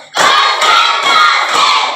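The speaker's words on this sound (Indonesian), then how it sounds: "Satu, tepuk dua, tepuk tiga, tepuk empat" A school class clapping in rhythm during a lesson, loud bursts of many hands and young voices rising together in a few pulsing waves, close and energetic.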